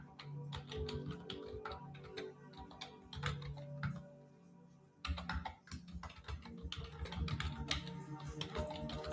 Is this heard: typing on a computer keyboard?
yes